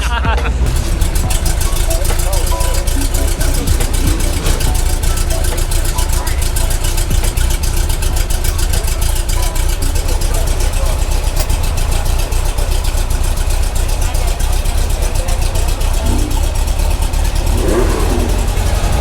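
A Porsche 356C engine runs steadily and loudly while cruising around Coral Gables, Miami, a continuous low drone with slight revving, with people talking over it.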